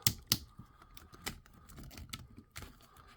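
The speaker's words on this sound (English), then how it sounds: "you hear that ratcheted sound" Quiet, irregular plastic clicks and small ratcheting snaps from the joints of a Toy Biz Marvel Legends Galactus action figure, up close, a handful of sharp taps scattered across a few seconds.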